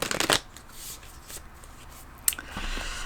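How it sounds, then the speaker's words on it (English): A deck of oracle cards is shuffled in a quick, loud riffle of papery flutters at the start, followed by quieter handling, a sharp card snap, and soft rustling toward the end. "we're going to pull cards"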